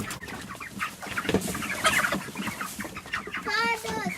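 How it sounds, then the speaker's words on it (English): Chickens cluck and squawk busily around feeding time, a dense overlapping chorus of farmyard fowl with one drawn-out call near the end, close and fairly loud. "we're feeding the chicken as usual"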